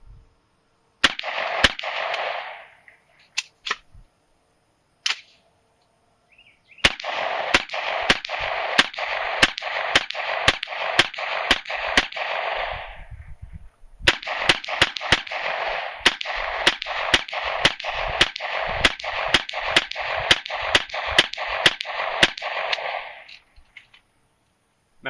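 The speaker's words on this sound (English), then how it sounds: "Third and final battery, 30 round course of fire." Rifle fire in a 30-round course against a wire-mesh beehive barrier: sharp, evenly spaced shots crack out in two long strings with a short pause between, each shot ringing against the mesh, close and loud, with no talk.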